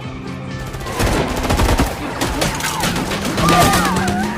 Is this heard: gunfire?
yes